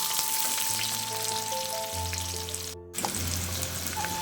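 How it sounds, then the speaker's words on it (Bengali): Chopped onions fry with a continuous sizzle in a pan while being stirred, a steady close hiss with a brief break partway through. "পেঁয়াজগুলো অল্প ভেজে আমি এর মধ্যে আলুগুলো দিয়ে দেবো।"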